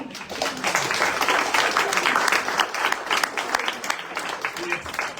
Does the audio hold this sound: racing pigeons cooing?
no